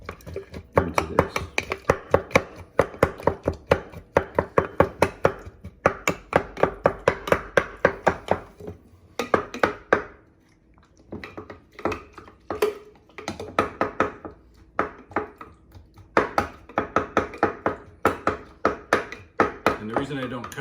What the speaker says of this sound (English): go ahead and break up my watermelon here